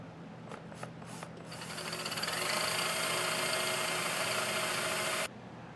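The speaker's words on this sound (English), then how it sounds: "Now we're going to drill another 17/32 hole in the top here." A steady high-pitched whine of a power drill cutting a 17/32-inch hole through metal while installing a Roadmaster tow base plate, loud and continuous for several seconds before stopping abruptly.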